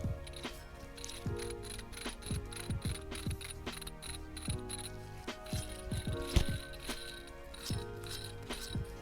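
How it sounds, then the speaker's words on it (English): A worn idler pulley bearing from a car engine spun by hand, giving a close, dry rapid ticking and grinding rattle in uneven bursts, with faint metallic clinks throughout. "You can hear how wore out this bearing is, but not this one."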